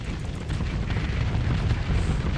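Continuous low, rumbling barrage of starship weapons fire and impacts in the Starsector space combat game, a steady heavy roar with no voices.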